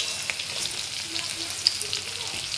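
Potatoes fry in a pan of oil for a meat dish, giving a steady, moderately loud sizzling hiss with scattered crackles and pops throughout, and no talking.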